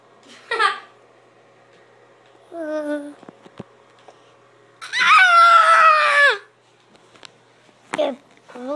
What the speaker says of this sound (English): You're screaming because you can't believe your eyes.